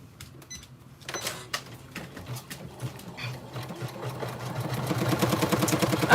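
An embroidery machine stitches a design on a bag, a close, rapid mechanical chatter that starts quietly, picks up after a second and grows louder and denser toward the end, with no talking.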